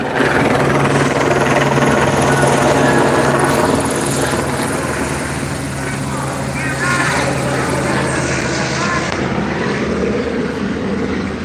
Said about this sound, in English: it's a little loud here. There's a helicopter overhead.